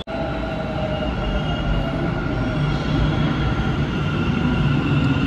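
Loud, continuous rumble of a crowded Bangalore metro train in motion, with a steady hum and faint rail whine, heard from inside the carriage.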